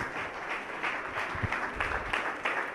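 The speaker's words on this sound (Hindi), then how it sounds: "आपने इनके सम्मान में जोरदार तालियां होना चाहिए।" Audience applause at a Jain spiritual discourse, honoring a student from Chandragiri Pratibha Sthali; dense, continuous crowd clapping with rhythmic surges, moderately loud and sustained throughout with no voices over it.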